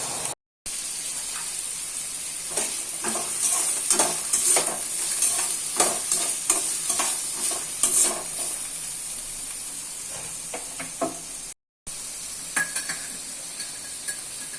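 Onion, carrot, beans, peas and green chilli sautéing in a pan: a constant hiss with repeated scraping stirs and crackling bursts, close and fairly loud.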